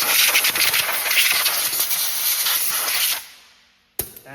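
Compressed air blasts loudly across a brake backing plate during a rear wheel bearing job on a Lexus RX350 AWD, a steady close hiss lasting about three seconds before cutting off, then a brief second burst.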